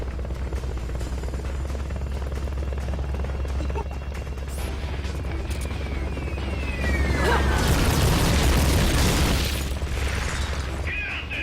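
Helicopter rotor drone and blasts from the video game Metal Gear Solid: Peace Walker, a steady loud rumble throughout that swells into a burst of explosive noise around the middle and end.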